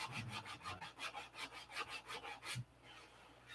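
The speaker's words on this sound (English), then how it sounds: "Superfill, pretty easy to sand" Superfill filler being hand-sanded with 320 grit sandpaper, a soft rhythmic back-and-forth scratching of about a dozen quick strokes, close and quiet, with no talking.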